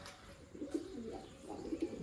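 Pigeons coo softly nearby, a few low, rounded calls rising and falling over a quiet background with no talking.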